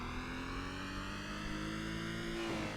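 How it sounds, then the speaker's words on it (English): A race car engine in Assetto Corsa roars continuously, with a loud rising and falling rev drone filling the whole stretch and no voices. "Oh, listen to that engine roar."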